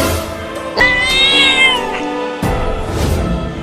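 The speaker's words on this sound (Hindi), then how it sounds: "एक छोटी सी बिल्ली मुझे पिछवाड़ा दिखाकर चिढ़ा रही है।" A cartoon cat lets out a loud, drawn-out meow with a rising then falling pitch over busy background music, followed by a second shorter cry, close and prominent.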